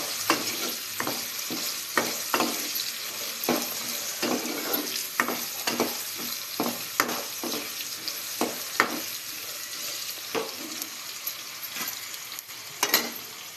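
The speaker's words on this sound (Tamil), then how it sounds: "நல்லா கைவிடாமல் கலந்து விட்டுட்டே இருக்கணும்" A spoon stirs pirandai chutney mixture frying in a pan, with repeated scraping strokes at an uneven pace over a continuous soft sizzle, close by and with no voices.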